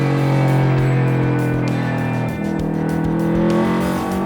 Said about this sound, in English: there's a flat engine note that we get with a flat 4 engine that's very, very unique.